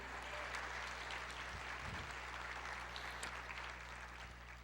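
A church congregation applauds in a sermon setting, a dense, continuous wash of clapping held at an even level throughout, with low hum beneath and no voices.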